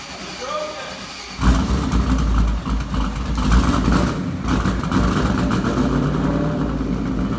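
Someone's Audi, its engine idling then kicking up into a loud, sustained rev with rough, throbbing low rumble; people talk over it.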